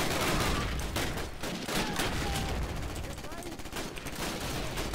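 Rapid gunfire and explosions fill a Call of Duty: United Offensive match, dense overlapping bursts and blasts crackling continuously with no pause.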